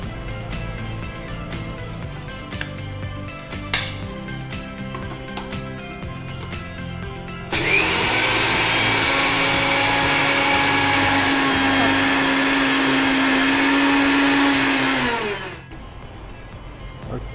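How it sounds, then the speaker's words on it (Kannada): A kitchen mixer grinder powders cooled fried ingredients for moong dal halwa. After a quieter start, the motor kicks in with a loud, steady high whir that runs about eight seconds, then cuts off abruptly. "ಸ್ವಲ್ಪ ಅದನ್ನು ಮಿಕ್ಸಿಯಲ್ಲಿ ಪುಡಿ ಮಾಡಬೇಕು"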